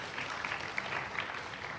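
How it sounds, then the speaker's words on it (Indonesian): An audience applauds at an educational finance class, giving a short burst of scattered, fairly faint clapping with a few sharper claps. "kita beri tepuk tangan yang meriah untuk Herjunot Ali dan juga Kak Noni."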